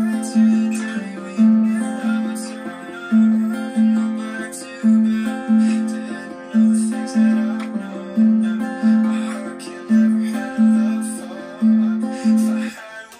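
Acoustic guitar plays a simple, steady picking pattern from a song's chorus, with evenly spaced plucked notes repeating in a regular rhythm. It sounds close and alone, with no voices.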